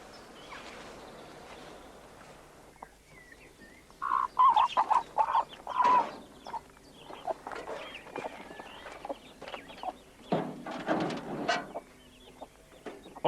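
Chickens cluck and call around a chicken house built of recycled wood on a central pole, outdoors; scattered near clucks with quieter stretches between, no talking.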